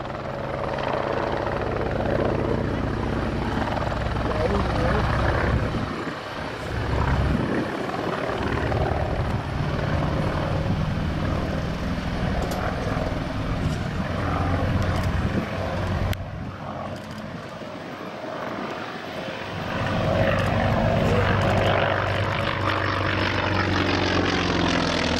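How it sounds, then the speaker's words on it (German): A North American T-28C Trojan with a Wright Cyclone radial engine drones overhead, a loud, sustained propeller roar that swells and fades slightly over a long flypast, with no talk. "Sound kommt von dem Wright Cyclone Sternmotor, einer Radial Engine"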